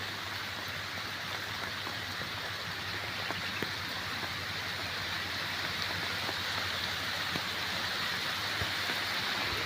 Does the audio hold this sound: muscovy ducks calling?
no